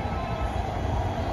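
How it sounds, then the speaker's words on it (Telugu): Steady rumbling ambience at Yeshwanthpur railway station, a dense, continuous wash of low noise from trains and the platform with no distinct events over a brief moment. "ఇది యశ్వంత్పూర్ రైల్వే స్టేషన్."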